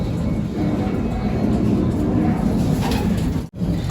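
Pigeons in a colony breeding loft, with parent birds feeding their squabs, give soft, overlapping coos and rustling against a dense, steady background bustle.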